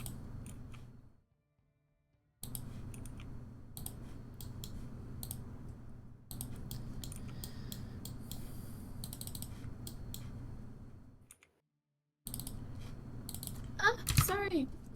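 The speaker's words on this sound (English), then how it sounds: "I'm typing down some quick notes" Notes typed on a computer keyboard during a tabletop D&D session: bursts of quick, quiet clicking keystrokes separated by pauses, with a faint voice and a brief squeaky sound near the end.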